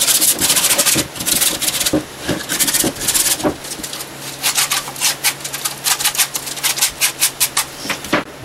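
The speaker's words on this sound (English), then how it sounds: "sanded" A small wooden birdhouse is sanded by hand in loud, close, rhythmic back-and-forth rasping strokes that keep going throughout.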